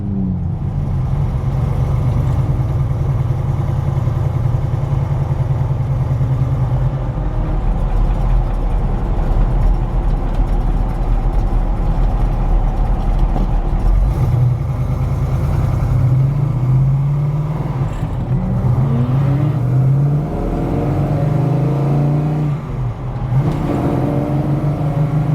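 A race car on a track runs its engine loud and close for the whole stretch, a steady low idle swelling into repeated revs and accelerations with no talking.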